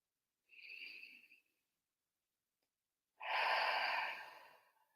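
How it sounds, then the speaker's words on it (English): Two deep clearing breaths during a guided self-compassion meditation: a shorter soft exhale, a pause of silence, then a longer, fuller breath out, close and breathy in a quiet room. "maybe begin just by taking a few clearing breaths"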